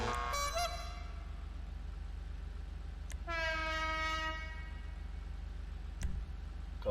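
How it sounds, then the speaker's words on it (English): Air horn fitted to an Obey 10F car in a racing video game, sounding two loud, clear blasts, a short one at the start and a longer tone a few seconds later, over a steady low engine hum. "Go for an air horn just to be different."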